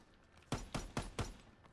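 Four rifle shots from an SVT-40 in the shooter game Call of Duty WW2, evenly spaced at about a quarter-second apart, sharp and fairly loud against quiet in-game background noise.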